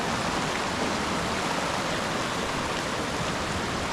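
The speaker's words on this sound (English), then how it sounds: "Beautiful stream." Mountain stream on the Mount Whitney trail, a steady broadband rush of flowing water, close and continuous with no other sounds.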